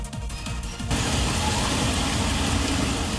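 Heavy rain pours steadily during flooding in Bikaner, a dense continuous roar of falling water that swells and stays loud and unbroken throughout.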